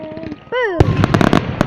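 Fireworks going off outdoors at a Canada Day celebration: a whistling rise, then a sharp bang followed by a dense run of crackling pops and bursts, loud and close.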